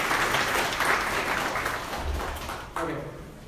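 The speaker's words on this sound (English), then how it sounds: "Can we have a round of applause for him before he starts?" An audience at a React Native meetup applauds, a dense wash of clapping that holds steady and then thins toward the end, fairly loud and close with no talk over it.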